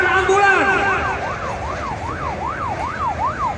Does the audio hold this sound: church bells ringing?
no